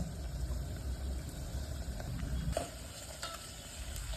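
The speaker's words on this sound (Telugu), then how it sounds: "అల్లం పేస్ట్ అనేది ఇప్పుడు వేస్తాను అనమాట" Ginger paste fries in oil with onion and curry leaves, a faint continuous sizzle with a few light stirring clicks, quiet and close.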